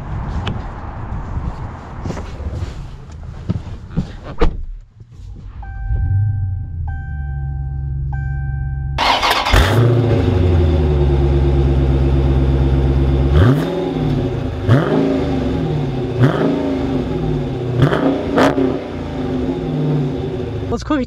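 A 2021 Dodge Challenger Scat Pack Shaker muscle car cranks and fires into a loud, deep idle. It then rises through several sharp throttle blips up close, with brief talk at the start.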